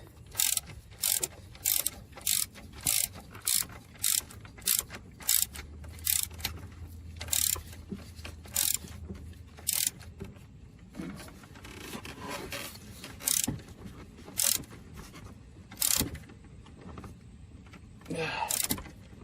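A ratchet tightening the alternator bolt on a 2004 Infiniti G35, heard as repeated bursts of rapid close clicking with short pauses between strokes, alone without speech.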